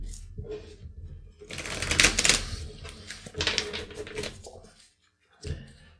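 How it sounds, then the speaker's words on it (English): Tarot cards being shuffled by hand, close riffling bursts in several rapid runs with short pauses between, loud and crisp with no talking over them. "Just shuffling these cards."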